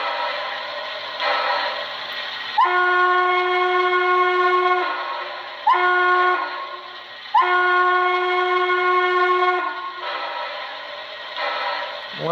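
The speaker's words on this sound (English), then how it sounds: "Gonna go Norfolk and Western flat top single chime." A Soundtraxx Econami steam DCC decoder plays a Norfolk and Western flat top single chime steam whistle: several sustained, steady blasts of varying length separated by brief gaps, over a soft chuffing background.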